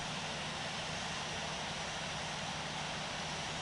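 An Air Asia Airbus A320 roars through its takeoff at Sydney airport, a loud, steady broadband engine rumble that holds unbroken from start to finish.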